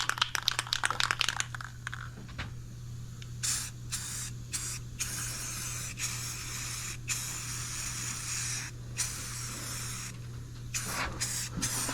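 Yellow spray paint being sprayed onto John Deere X350 lawn tractor parts, heard up close: a can rattles briefly, then a series of steady hissing bursts with short pauses over a low background hum.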